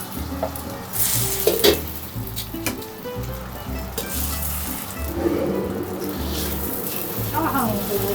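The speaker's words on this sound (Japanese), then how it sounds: "そしたら適量の油でご飯をね炒めて" Rice stir-fries in oil in a wok for fried rice with firefly squid, rapeseed blossoms and half-set egg. It crackles with a continuous close sizzle, and a spatula scrapes and clanks against the metal in repeated strokes.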